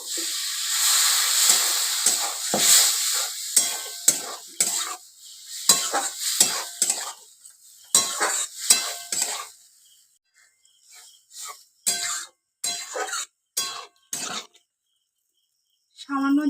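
Water poured into a frying potato curry masala, then stirred: loud bursts of sizzle and hissing steam in uneven stirring strokes, fading into short intermittent crackles with quiet gaps.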